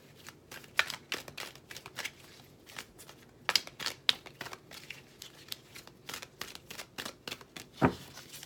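Tarot cards are shuffled close up in quick riffling bursts, crisp papery flutters separated by short pauses, with no one speaking.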